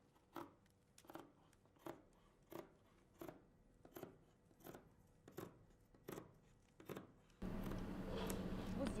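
Scissors snip through fabric while cutting a frock coat chest dart, about ten crisp, evenly spaced cuts up close, followed by a burst of steady rustling noise at the end.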